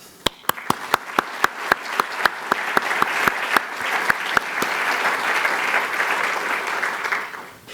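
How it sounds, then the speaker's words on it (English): Audience applause at an academic lecture, starting with a few distinct claps and quickly swelling into sustained, fairly loud clapping from a crowd before tapering off at the end. "All of you who have been involved in the exhibition deserve a round of applause."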